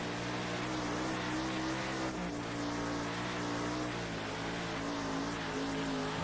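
A sprint car engine in the World of Outlaws racing game, a steady droning roar with throttle rising and easing slightly, continuous and close throughout with no talking.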